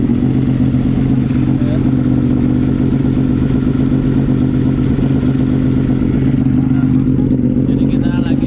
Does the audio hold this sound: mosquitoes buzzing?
no